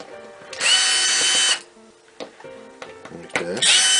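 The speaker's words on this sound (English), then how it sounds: "So you want to take all these screws out," A power drill backs screws out of a computer hard drive, with two loud whirring bursts near the mic, the first long and steady and the second starting at the end, separated by clicks and handling clatter on the bench.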